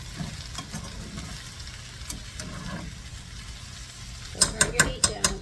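Potatoes frying in oil in a pan for hash, a low, steady sizzle broken by scraping and stirring, ending in a run of sharp clatters from a utensil against the pan.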